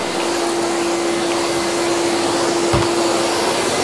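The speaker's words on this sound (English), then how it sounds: "switch the vacuum cleaner on" A vacuum cleaner runs steadily at close range, a constant broadband roar over a fixed motor hum with a brief low thump partway through.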